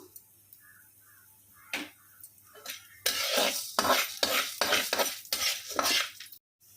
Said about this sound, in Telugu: ఇందులో మినపప్పు కూడా వేసుకుని వేయించుకుందాం